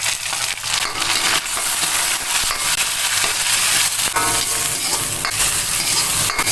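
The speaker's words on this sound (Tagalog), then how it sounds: "Simula na po tayo maggisa ng ating mga ricado. Lagay po natin yung ating bawang, sibuyas." Garlic, onion and tomato sautéing in a pan, a loud continuous sizzle with bright crackling and scraping of a spatter stirring, close up with no talking.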